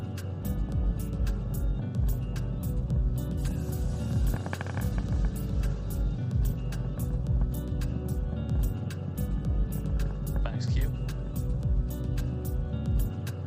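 Rocket engines roar in a steady, loud, continuous rumble during ascent as the vehicle throttles down toward Max Q, dense low-end noise filling the whole stretch with no break.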